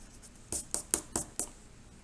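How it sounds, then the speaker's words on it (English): Pencil circles being rubbed out on paper with an eraser, heard as five short, distinct scrubbing strokes in quick succession, close and fairly soft, with quiet in between and no talking. "I'm going to try to slightly erase these circles."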